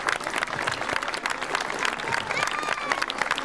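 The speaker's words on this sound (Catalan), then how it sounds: "Un fort aplaudiment, sisplau." Audience applauding at an outdoor dance company performance in a village, continuous loud clapping from a crowd with some voices mixed in.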